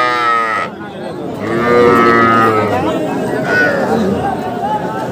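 Calves low and moo loudly at a busy cattle market, several drawn-out calls close by with people chattering in the background.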